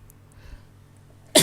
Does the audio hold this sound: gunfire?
no